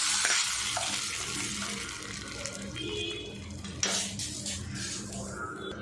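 Tempering crackles and sizzles hot in oil as it is poured into coconut chutney, a steady frying hiss with a few sharper pops and bursts midway.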